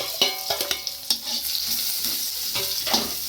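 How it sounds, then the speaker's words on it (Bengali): Onion, garlic and black cumin hit hot oil in a pan, giving a close, steady sizzle broken by sharp scraping stirs and clinks of a utensil, with no talking. "সামান্য তেল দিয়েছি, তেলে দিয়ে দিচ্ছি পেঁয়াজ, রসুন আর একটু কালো জিরে।"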